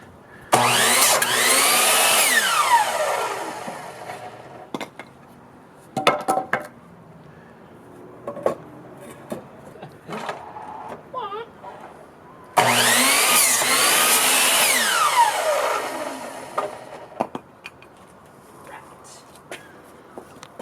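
A power saw cuts 2x4 lumber pieces to length for the base of a surfboard rack. Two loud cuts arrive about ten seconds apart, each whining down afterwards, with quieter clatter and handling noise between them.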